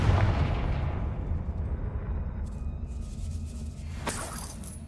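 A Confringo spell blast in Hogwarts Legacy bursts with a booming, crackling explosion at the start, its rumble and debris fading over a few seconds, followed by a faint shimmering ring near the end.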